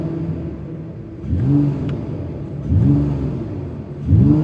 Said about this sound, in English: let's just give it a few revs